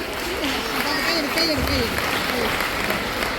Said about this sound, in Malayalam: നല്ലൊരു കയ്യടി, അടിച്ച് കുറച്ചൊരു കയ്യടി കൊടുക്കണം എല്ലാ മക്കൾക്കും